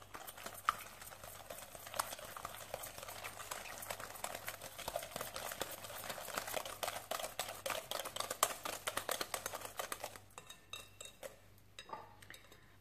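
Muffin batter for chocolate fondant muffins is stirred in a bowl right after eggs go in, giving a steady run of scraping and clinking utensil taps against the dish, close and moderately loud, quieting toward the end.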